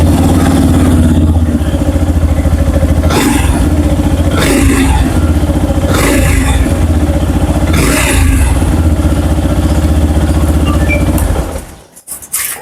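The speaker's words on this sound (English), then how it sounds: "Let's listen to its exhaust note." The exhaust of a 2025 Yamaha FZ-S Hybrid motorcycle rumbles at a loud, steady idle up close, with several short throttle blips punching through before the engine cuts off near the end.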